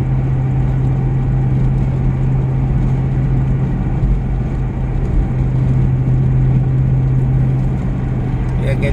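A blue car overtakes on a road, heard as a loud, steady engine drone with a constant low hum and road rumble that runs unbroken throughout.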